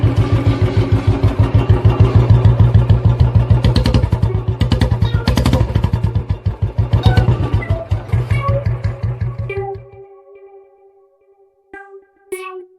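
A motorcycle-type engine idles loud and close with a steady pulsing clatter, then cuts off near the end, leaving brief faint rattles after it stops.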